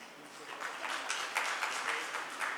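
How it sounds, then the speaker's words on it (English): Audience applause at a real estate REITs conclave honoring keynote speaker J.N. Bajpai, a steady wash of many hands clapping at moderate distance, fairly soft and even throughout. "A round of applause for keynote speaker, Mr. J.N. Bajpai."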